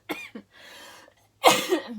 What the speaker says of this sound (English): all this talking is making me cough